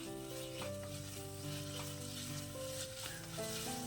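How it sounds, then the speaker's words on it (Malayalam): Yogurt stirred into a sizzling mint masala for mushroom rice, a steady frying hiss with soft spoon stirring under a sustained background tone, no talk. "ഇനി ഇതിലോട്ട് 1 ടേബിൾ സ്പൂൺ തൈര് ചേർക്കുക. ഇതും കുറച്ച് സെക്കൻഡ് മാത്രം ഒന്ന് ഇളക്കിയെടുക്കുക."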